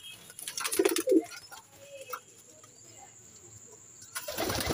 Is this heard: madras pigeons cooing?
yes